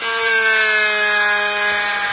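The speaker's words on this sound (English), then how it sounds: "It's a drill." A power drill bores into a tortoise shell with a steady, continuous high-pitched whine that holds level from start to finish, with no talking.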